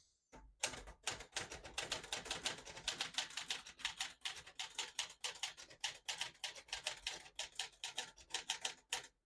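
Rapid keystrokes on a 1971 Olivetti Valentine portable typewriter clack in an uneven, continuous rhythm, close and crisp, with no voices.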